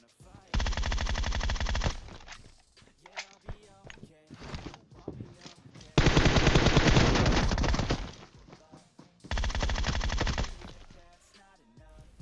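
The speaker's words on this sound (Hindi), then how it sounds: "दूसरा बंदा न जाने कौन सी महंगी गन चला रहा है" Automatic gunfire in the mobile battle game PUBG Mobile, three long rapid bursts of machine-gun fire with scattered single shots and footsteps between them, loud and close.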